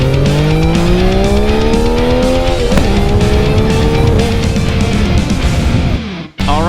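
A Yamaha Tracer motorcycle is ridden hard past the listener, its loud engine revving and rising in pitch as it accelerates, then cutting off sharply near the end, with no talking.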